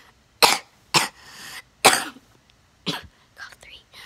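Several sharp coughs in a row, close and loud, separated by brief pauses, the last few softer and more breathy.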